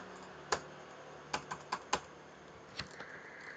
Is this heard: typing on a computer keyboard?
yes